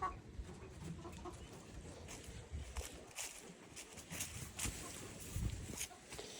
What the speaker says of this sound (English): This little white chick